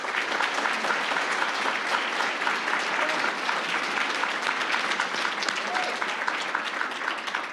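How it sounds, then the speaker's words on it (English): Steady, sustained audience applause fills the room at an annual chamber of commerce awards banquet, a dense even clapping that holds at full strength for several seconds. "Please join me in giving them a round of applause."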